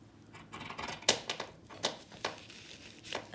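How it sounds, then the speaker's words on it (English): Bent-handle shears cutting out a paper pattern, a quiet, close series of crisp snips and rustling paper at an uneven rhythm. "This is a bent handle shear, and I'm going to cut out the pattern."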